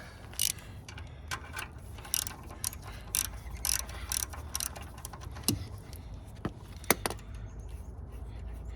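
A ratchet wrench tightening bolts on the lower roller of a rubber track excavator: quiet irregular clicks and sharp ticks come close by at uneven intervals over a low steady background hum.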